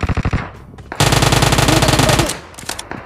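Automatic gunfire in the mobile battle royale game PUBG Mobile, with a short burst of shots followed by a long, loud, rapid continuous stream of fire and a few scattered shots afterward.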